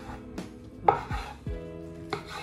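A knife cuts a blanched cabbage in half, giving several sharp chopping thuds on a board at uneven intervals, close and fairly loud, with no voices.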